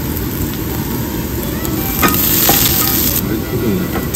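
Garlic stir-fries in a hot wok for a shrimp dish, a loud, dense sizzle that swells midway, broken by a few sharp scrapes and clinks of a spatula, with no voices.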